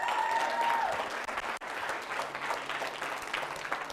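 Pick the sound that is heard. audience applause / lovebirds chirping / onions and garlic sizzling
audience applause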